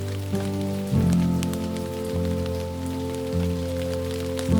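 Spring rain falls as a steady patter on surfaces, continuous and soft, beneath a loud, sustained droning musical tone that swells at intervals.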